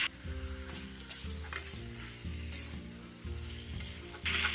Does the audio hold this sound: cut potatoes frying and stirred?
yes